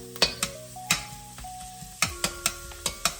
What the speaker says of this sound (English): I'll go ahead and cook the onion and the garlic just a tad more